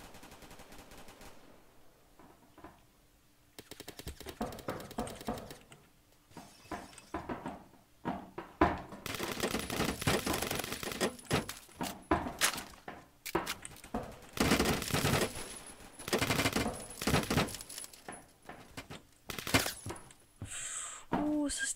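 Gunfire in the online shooter Phantom Forces: dense bursts of automatic fire and single sharp sniper shots, close and loud, running almost continuously with brief lulls.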